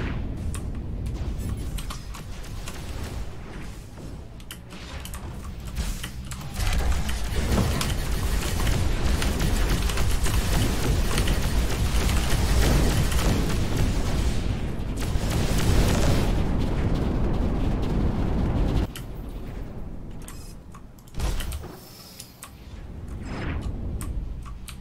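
A time bomb in the video game Overload ticks and then erupts in loud, sustained booming blasts, a dense roar that swells for several seconds, drops away abruptly, then returns in a shorter burst.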